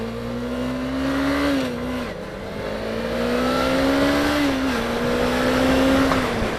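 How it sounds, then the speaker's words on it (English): A 2018 Suzuki GSX250R twin-cylinder 250 cc motorcycle engine revs steadily, its pitch rising and dipping with the throttle, loud and close with no talking over it. "that engine sounds marvelous. It sounds like what you wouldn't expect a 250 to sound"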